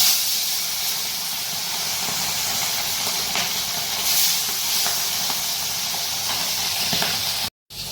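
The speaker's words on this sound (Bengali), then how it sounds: "দিয়ে এক এক করে মাছগুলো ছেড়ে ভেজে নেব।" Tangra fish, seasoned with salt and turmeric, fry in hot oil with a loud, even, continuous hiss close up, broken only by a brief dropout near the end.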